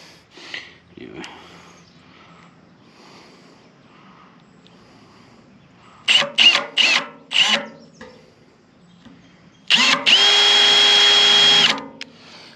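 A power drill bores pilot holes in a steel plate for a trailer winch mount, with several short bursts of whirring followed by one longer sustained run, loud and close, and someone speaking in between.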